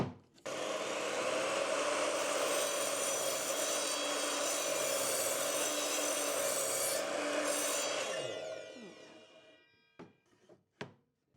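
A power saw cuts steadily through wood for about eight seconds with a loud, continuous rasping whine, then winds down, followed by a few brief knocks and clatters.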